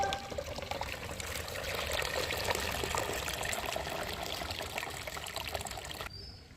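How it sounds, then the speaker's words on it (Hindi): Water pours steadily into a gram flour mixture for a homemade plant fertiliser with jaggery, giving a continuous, fairly quiet trickling splash that stops abruptly near the end. "इसके बाद आप इसमें भर देंगे पानी।"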